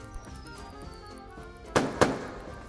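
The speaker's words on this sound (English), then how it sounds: "I tried to use a firework." Two sharp firework-like bangs pop in quick succession over quiet background game sounds.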